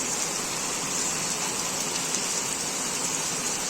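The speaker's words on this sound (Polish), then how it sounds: "To jest po prostu ulewa." Heavy downpour over a flooded road during a violent storm in Kunów: dense, unbroken hiss of rain pounding the ground, loud and steady throughout, with no voices.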